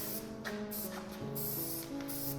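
Soft, continuous hiss of an aerosol spray can coating an antique Columbian vise with paint, steady and close with slight pulsing over a quiet tonal background.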